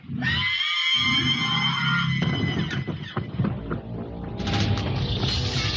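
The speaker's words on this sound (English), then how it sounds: "Tube speakers activated. Screaming now." A theme park attraction's alien creature screams through tube speakers, a loud, harsh, sustained shriek mixed with rumbling booms and crashing effects, dense and close throughout.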